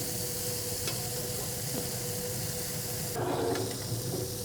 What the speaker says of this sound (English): You can hear the cast iron cooling down.